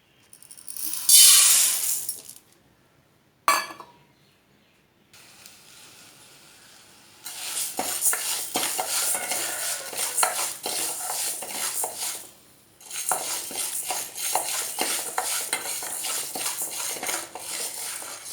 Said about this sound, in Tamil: இப்போ இந்த பச்சைப்பயிரை நம்ம வடச்சட்டியில் போட்டு நல்லா வறுத்துக்கலாம்